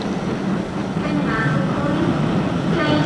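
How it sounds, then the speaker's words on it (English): The 9:17 Sheffield train pulls out of York station, a steady rolling rumble of wheels and carriages with a faint squeal, fairly close, with some talk over it. "Ah, there goes the 917 Sheffield."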